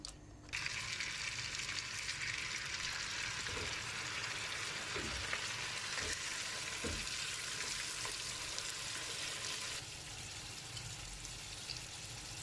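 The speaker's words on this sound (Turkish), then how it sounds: "Şimdi böyle karıştırıyorum" Food being stirred in a sizzling pan makes a continuous, close frying hiss, with a few soft scraping strokes from the stirring in the middle.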